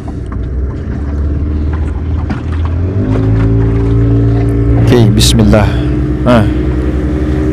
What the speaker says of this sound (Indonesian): Kedengarannya kedua mesin sudah mulai berbunyi kembali dengan normal.